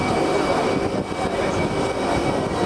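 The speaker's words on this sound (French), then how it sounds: "So we're about to see the Alpha Jet." An Alpha Jet of the French aerobatics team roars past at the 2015 Paris Air Show, a loud, steady jet-engine rush that fills the air with no speech over it.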